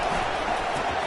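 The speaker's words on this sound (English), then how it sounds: "this crowd is turning it up a notch" Stadium crowd at a college football game roaring steadily and loudly before a Horned Frogs play, a dense continuous wash of cheering voices with no breaks.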